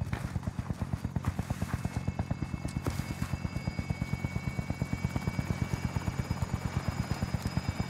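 A helicopter's rotor thuds in a steady, rapid pulse close by and loud throughout, a continuous chopper drone in a first-person shooter game.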